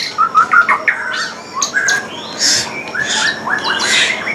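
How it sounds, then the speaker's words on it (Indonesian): A white-rumped shama (murai batu) sings in bright, varied phrases of whistles and sharp chirps, close and clear, with short pauses between bursts over a quiet background. "Nah, sekarang udah mulai bunyi teman-teman burungnya."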